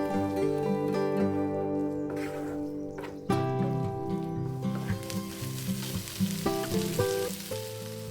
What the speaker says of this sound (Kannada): ಇದನ್ನು ಒಂದು 2 ಮಿನಿಟ್ಸ್ ಫ್ರೈ ಮಾಡಿಕೊಂಡ್ರೆ ಸಾಕು